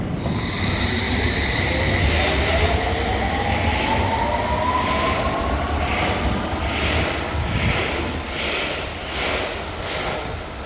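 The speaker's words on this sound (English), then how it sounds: "It's when I'm going to catch the Northern Line up to Euston Station." A London Underground Northern Line train arrives, loud and near, its traction motors whining in a rising tone over a heavy rolling rumble and rattle, with no one speaking.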